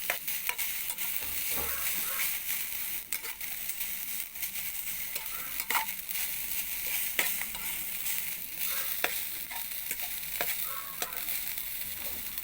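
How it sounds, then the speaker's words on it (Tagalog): Garlic sautéing in a pan for an early breakfast, a steady sizzle and frying hiss with scattered stirring clatters from a utensil, close and continuous throughout with no talk. "huli na yung paggisa ko ng bawang"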